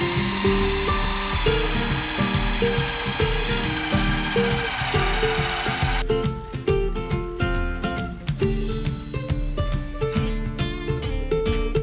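A power drill boring a hole deep into a wooden knife handle for a leathercraft tool, a steady loud whirring whine with a grinding, chattering bite that shifts in pitch midway as the bit works through the wood.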